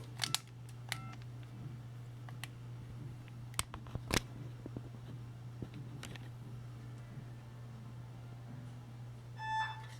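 Hello Kitty novelty toy phone dialing a call, a series of sharp, separate tone beeps and button clicks spread irregularly over a quiet background with a steady low hum, then a brief run of beeps near the end.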